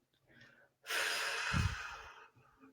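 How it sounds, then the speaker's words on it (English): A person takes a deep breath, a long audible rush of air sustained for over a second with a short huff in the middle, close and quiet, with no talking. "breathing in through the nose, out through the mouth"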